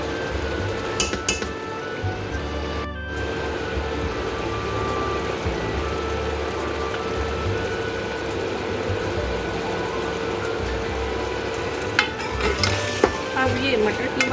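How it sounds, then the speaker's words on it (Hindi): Minced meat and peas fry in a pan for keema matar, a low, steady sizzle with occasional clinks and scrapes of a spoon against the pan, fairly close and continuous without speech. "अब ये मटर कीमा भुन रहा है"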